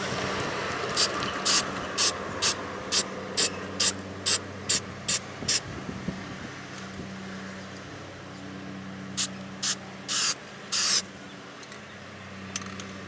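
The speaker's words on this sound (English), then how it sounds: "I'm gonna spray some white paint" An aerosol can of white Rust-Oleum paint hisses outdoors on a windy day onto rusted doors of a 2015 Ford Transit 250 van, in a series of short, sharp bursts, about a dozen, then a few longer sprays after a pause.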